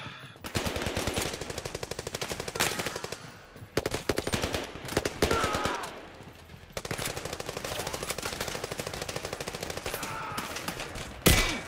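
Rapid automatic gunfire in the Zero Caliber VR shooter, long bursts of fast, loud cracks broken by short pauses and near-constant throughout, with no voices over it.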